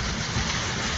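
Heavy rain pours steadily during a flooded day in Cengkareng, Jakarta, a dense, even hiss of water with low rumbling beneath and no voices.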